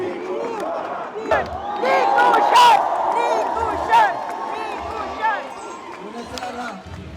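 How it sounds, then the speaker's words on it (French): A large crowd at a Romanian election results gathering cheers and shouts with joy, a loud sustained roar with whoops and scattered clapping, under a voice speaking over it. "À l'annonce des résultats, la foule laisse éclater sa joie."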